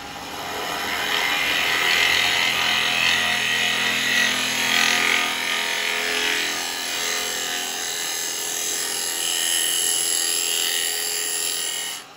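Woodturning lathe roughing out a yew bowl with a carbide tool, a close, steady, loud hiss and scraping whine of the cut that rises and eases slightly over twelve seconds.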